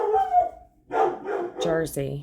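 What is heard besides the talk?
dog barking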